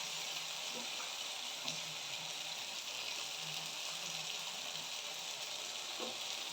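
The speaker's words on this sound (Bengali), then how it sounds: "ভালো করে কষতে থাকবো।" A spice mix sizzles in a frying pan during a fish-egg kosha, a steady moderate hiss with a few faint spoon taps over it.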